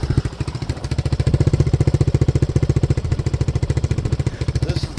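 A 1985 Honda ATC 200X three-wheeler runs on its first start with a new muffler, a close, loud single-cylinder putter with rapid even pulses that rise slightly and hold steady.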